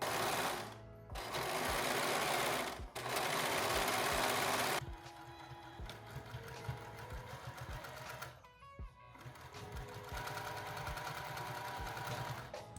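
Sewing machine edge stitching a pocket onto lounge pants, a rapid mechanical chatter in bursts with brief pauses between runs, close and clear throughout.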